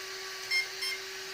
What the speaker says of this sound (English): and then it will beep twice.